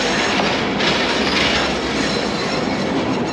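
A tram rolls along a street in Lviv, its wheels clattering and squealing loud and close in a steady, continuous rumble.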